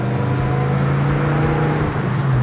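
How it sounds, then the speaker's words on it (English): A 5-litre V8 in a Holden VH Commodore Group 3 from HDT Special Vehicles idles close by, a loud, steady, throbbing low rumble with a faint rhythmic lope and no talk. "the 5-litre engine sounds as healthy as it did the day it left HDT Special Vehicles"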